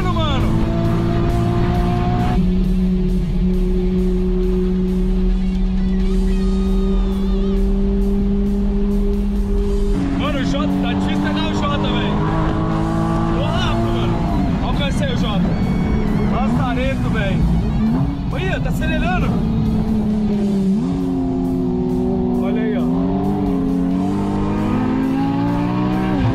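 A Ferrari engine revs and drives loudly through most of the stretch, its tone rising and shifting with acceleration, while people talk over it throughout.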